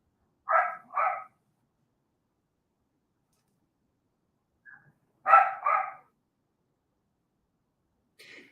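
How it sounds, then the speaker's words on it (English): A dog barks in two short pairs of quick barks separated by a quiet gap, fairly close and clear, followed by a faint brief yip at the end, with no talking. "I have got to get that barking dog someplace else"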